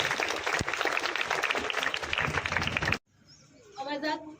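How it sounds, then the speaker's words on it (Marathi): Students applaud at a Shivaji Jayanti celebration, a dense, loud burst of many hands clapping for about three seconds before cutting off, followed by a brief quieter stretch with a voice or whistle-like tone. "विद्यार्थ्यांनी टाळ्या वाजवाव्या."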